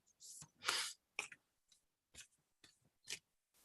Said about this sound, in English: I'm just going to keep shuffling now until I know it's time to stop.